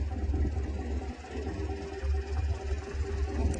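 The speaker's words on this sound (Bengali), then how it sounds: "মামা এখন ড্রাইভিং করছেন, ট্রলার আমাদের এগিয়ে চলেছে।" A trawler's engine runs steadily as the boat moves along a narrow creek through mangrove forest, giving a loud, continuous low throb with a chugging pulse and no break.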